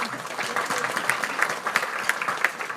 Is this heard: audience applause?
yes